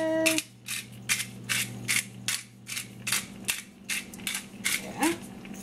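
Black pepper ground by hand over egg whites in a pan, a series of about a dozen rhythmic ratcheting grinder clicks, close and fairly quiet, with a faint pan hiss underneath.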